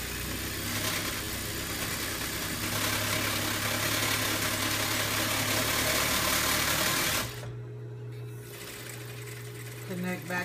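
A sewing machine stitches around a seam allowance in a steady, continuous close whir, then stops and leaves a quieter hum.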